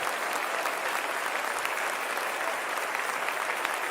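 A church congregation at a Sunday school service applauds together. The clapping is dense and steady and fills the room, with no pauses and no distinct voices over it.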